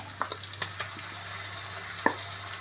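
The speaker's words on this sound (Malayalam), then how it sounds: "നമ്മുടെ സവോള ഒരുപാട് അങ്ങ് വഴണ്ട് പോകണ്ട കേട്ടോ നമ്മൾ ഈ രീതിയിൽ അങ്ങ് വഴണ്ടാൽ മതിയേ" Sliced onions sautéing in a pan for Kerala beef mappas, a quiet steady sizzle broken by a handful of light clicks and scrapes from a stirring spoon, no talking.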